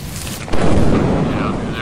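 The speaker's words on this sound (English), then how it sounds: "one of them got struck by lightning" A lightning strike in the video game Lethal Company hits as a sudden loud boom that rolls on into a rumbling, crackling tail, close and heavy.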